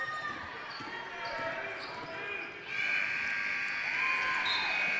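Buzzer sounding at a high school girls' basketball game, a sustained electronic tone rising out of steady gym crowd noise and court sounds.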